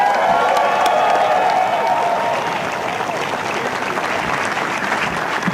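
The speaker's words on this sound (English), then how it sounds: "Nice to hear the applause again, isn't it, Judy?" Sustained applause from a golf gallery at an LPGA tournament, the 2021 Portland Classic, greeting the final threesome on the first tee; dense steady clapping and faint cheering throughout, gradually softening slightly.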